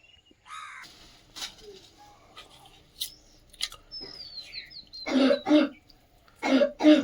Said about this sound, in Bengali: বাবু কাশছে দেখো